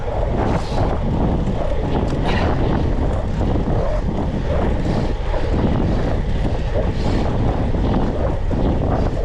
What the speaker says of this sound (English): Oh, so much wind.